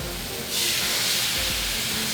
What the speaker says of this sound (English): Hear that nice sizzle whenever you drop the meat down.